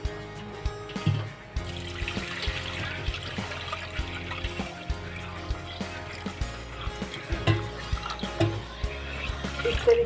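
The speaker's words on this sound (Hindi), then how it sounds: "अब हम इसमें पानी डालेंगे," Water pours and splashes into whisked yogurt in a container at close range for several seconds, with occasional knocks and clatter of kitchenware.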